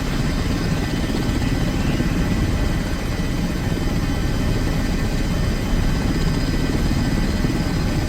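EMS rescue helicopter running at a crash and injury rescue scene, a loud, steady, close rotor and engine roar with a dense low thrum that holds unbroken at full level with no pauses.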